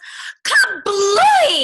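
A cartoon dragon named Humbert lets out a sudden pepper-induced sneeze in a children's story, one loud voiced burst with a sharp intake and explosive release, close and alone, likely a voice imitating the sneeze.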